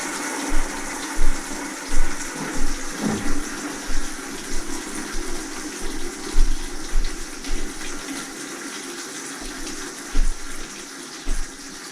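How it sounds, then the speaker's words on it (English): Water draining down through household plumbing pipes at the lowest point of a house, a steady rushing wash with repeated gurgling pulses and knocks, close and continuous with no talking. "I can pretty much successfully drain all the water down"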